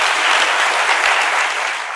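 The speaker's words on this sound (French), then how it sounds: "Applaudissements pour elle." Loud, dense applause fills a café venue as an audience welcomes a young woman, a thick continuous wash of clapping heard close up for two seconds and easing slightly at the end.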